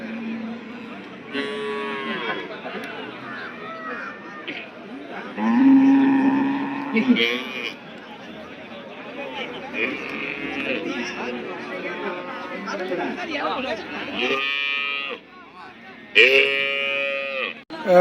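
Cattle from the Karnataka side at a Namakkal weekly livestock market moo in several long, loud calls, some nearby and some farther off, amid steady crowd chatter and talking.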